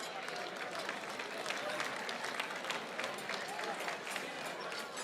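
Soft, continuous applause from an audience at a Pilchuck Glass School gala, a distant wash of clapping that stays steady throughout at a modest level, with faint crowd murmur underneath.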